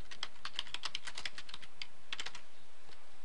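Rapid typing on a computer keyboard while free text is entered into a prescription comments box, a quick run of close, crisp key clicks with a short pause midway, no voices.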